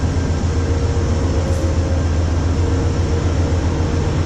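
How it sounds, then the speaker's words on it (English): Steady rumbling and rattling of a passenger train riding on rails heard from inside the car, a continuous low roar with even clatter and no voices. "Wow, this train's longer than I thought it was."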